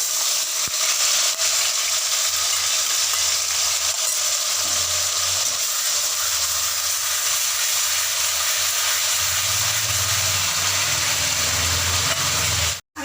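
Onion paste sizzling steadily in a pan, a constant loud frying hiss with a low rumbling undertone that grows near the end.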